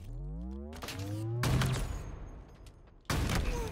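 Sniper rifle shots in Halo Infinite ranked play land as a few loud, sharp bursts with booming tails, spaced apart between quieter in-game tones and effects.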